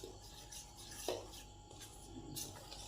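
A spoon scrapes and clinks in a bowl while mixing flour with salt and sugar for a batter, faint taps and soft rubbing strokes with one sharper clink in a quiet room.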